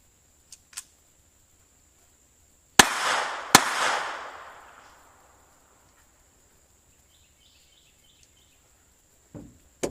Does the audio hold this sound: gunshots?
yes